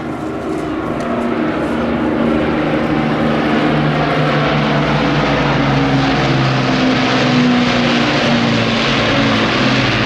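A four-engined Lancaster bomber flanked by two Hurricane fighters of the RAF Battle of Britain Memorial Flight passes at an airshow, with a loud, steady droning roar of piston propeller engines that holds strong and swells slightly throughout.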